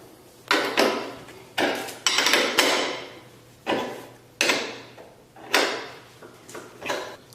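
A nut on a go-kart seatbelt bolt is tightened with a series of close, sharp ratcheting bursts, about eight in quick succession with short pauses between them.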